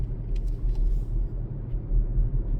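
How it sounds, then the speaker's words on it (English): A car drives at low speed along a quiet road near a lake in the evening, its engine and tyre rumble steady and close, deep and continuous throughout with no voices. "Just driving."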